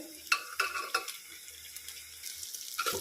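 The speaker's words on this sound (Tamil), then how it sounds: "வெங்காயம் சிம்மில் வச்சு வதக்கிக்கலாம் அப்போ தான் டேஸ்ட் வரும்" Onions for veg paya sauté in oil on low heat, a soft sizzle under repeated scraping stirs of a spoon against the pan, close and fairly quiet.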